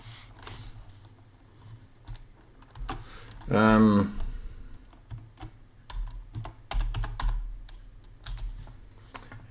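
Someone types on a computer keyboard in a quiet room: scattered clicks and short bursts of keystrokes, with one louder clattering flurry, while a person talks nearby.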